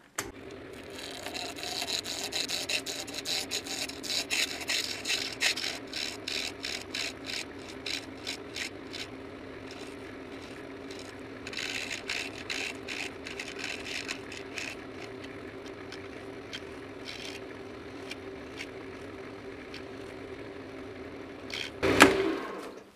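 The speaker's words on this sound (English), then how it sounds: "let's crank the lathe up and let's get going" Wood lathe spinning a homemade pen blank for a TM Zeta pen kit, with a steady mechanical hum and bursts of scraping tool chatter that come and go, then a sharp louder knock near the end; no talking.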